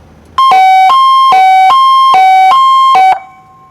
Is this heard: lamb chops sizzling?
no